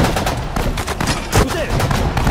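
Gunfire rattles in the Sudden Strike 4 strategy game during a Pacific War battle in the Japanese campaign. It is a loud, continuous fusillade of overlapping rifle and machine-gun bursts, with heavier reports punching through close by.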